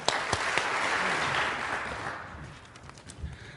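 Audience applause in a lecture hall at a scientific society plenary talk, a dense steady clapping that swells at first and then fades out over a few seconds.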